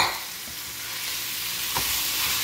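Browned meat sautéing with garlic in a pan, a steady close sizzle and frying hiss throughout with a brief stir clatter near the end, no voices.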